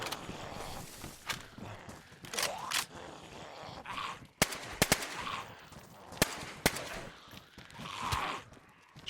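Gunfire from a supposedly suppressed gun in a zombie survival video game: several sharp, loud shots spaced irregularly among scuffling, footsteps and game noise, with occasional faint voice sounds.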